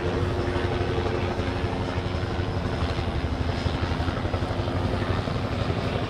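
A police helicopter circles overhead above the streets of Bakersfield, California, its rotor thumping and engine roaring as a steady, loud, continuous drone with no talking.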